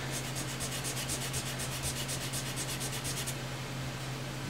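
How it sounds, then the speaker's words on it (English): Steady dry rubbing of sandpaper along a Fender Strat guitar neck under repair, a continuous close scratchy hiss with rapid back-and-forth strokes and no talking. "You got sand down to the paper starts to hit the tape"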